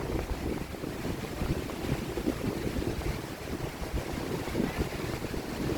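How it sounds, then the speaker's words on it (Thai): Strong sea waves and gusty wind at Bang Saen beach in Chonburi in the evening make a dense, continuous roar of surf and rumbling wind buffeting the microphone, with no pauses. "คลื่นแรงนะเสียงคลื่นดังดีจังอากาศดีลมก็แรง"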